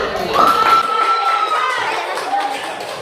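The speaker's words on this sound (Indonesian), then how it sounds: "Tepuk tangan dulu." Students in a vocational high school classroom break into a short burst of clapping and cheering, loud and close, fading over a few seconds with voices mixed in.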